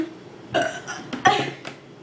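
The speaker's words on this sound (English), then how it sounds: "I wonder if they can hear us burping." Burps in a burping contest, a few short croaking belches in quick succession, close and fairly loud, with no talk over them.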